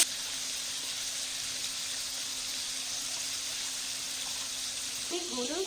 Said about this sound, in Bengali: মাংসটা দিয়ে দিয়েছি, নেড়ে দিচ্ছি।